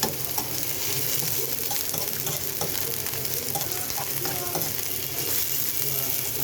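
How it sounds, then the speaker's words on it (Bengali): Potato fries with green chilies and onion in a pan, giving a steady, dense sizzle throughout with occasional stirring scrapes and no talk. "এইটাকে একটু ভাজা ভাজা করবো"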